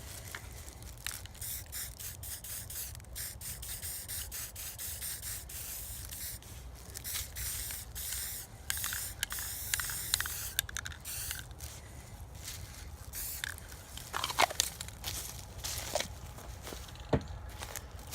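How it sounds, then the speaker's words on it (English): Repeated hissing bursts from a spray paint can, close and fairly quiet, some short and some sustained, with faint rubbing and handling noises between sprays. "Get your can of spray paint."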